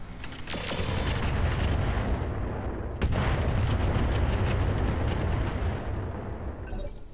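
Mech weapons in the BattleTech-based Roguetech game unleash a heavy, dense barrage of booming fire, a thick rumbling volley with a sharp renewed burst partway through, continuing loud throughout.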